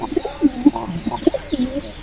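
Pigeons in a crowded coop, some sitting on eggs and with squabs, giving repeated soft low coos and throaty burbles from several birds close by in an irregular overlapping rhythm.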